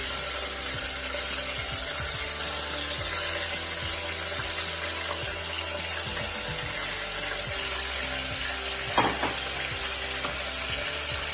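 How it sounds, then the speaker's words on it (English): Mutton pieces fry in hot oil for a ghee roast, a strong continuous sizzle up close with the scrape of stirring and a brief clink near the end. "So we have added the mutton in the oil."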